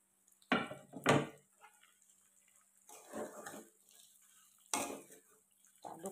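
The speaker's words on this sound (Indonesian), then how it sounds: "Aduk perlahan-lahan sampai menyatu dengan bumbunya ya teman-teman" A utensil stirs tempeh pieces with spice paste in a pan, producing a few loud scraping clanks and softer shuffling bursts, close by with quiet gaps between strokes.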